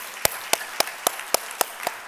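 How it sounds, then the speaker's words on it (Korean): A small church congregation at a Korean worship service claps in a steady, even rhythm, seven sharp claps spaced about a quarter second apart, fairly quiet and close with no voices over them. "우리 하나님께 영광의 박수 올립니다."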